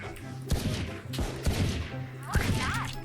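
Gunfire in a Valorant match: three sharp, loud shots spaced about a second apart, each with a quick punchy attack and short decay, close to the listener.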